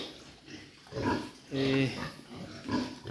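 An F1 sow on a farm grunts and oinks in several short bursts, close by, mixed with other low animal noises.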